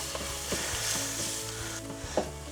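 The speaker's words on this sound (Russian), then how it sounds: "И как следует это мы сейчас перемешаем и немножко пережарим." Soft sizzling of flour frying in a pan with a spoon scraping and stirring through it, occasional light clinks, close and fairly quiet.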